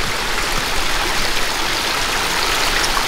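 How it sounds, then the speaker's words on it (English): A pondless waterfall at an outdoor water garden display pours steadily, giving a dense, even rush of splashing water close by with no talk over it. "that's a pondless waterfall"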